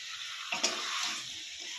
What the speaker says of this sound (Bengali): এখন মশলার সাথে সবজিগুলোকে ভালো করে কষিয়ে নেওয়া হবে বন্ধুরা।